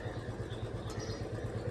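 A motorcycle engine idles nearby in a flooded street with a steady low, regular putter, continuous and fairly loud throughout.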